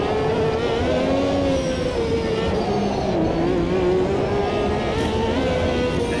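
Ferrari 333SP race car in Automobilista 2 at top speed in fifth gear, a loud, sustained engine howl that holds near-constant pitch with slight wavering and no break, a brief voice faintly in the background.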